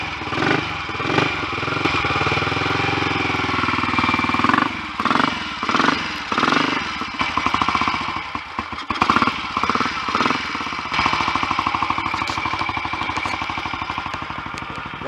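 A Royal Enfield 250 GT motorcycle, started cold without warm-up, fires up after several cranking bursts and settles into a loud, steady running engine note close by.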